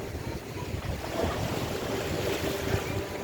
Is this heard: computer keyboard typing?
no